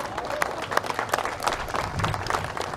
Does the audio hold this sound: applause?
yes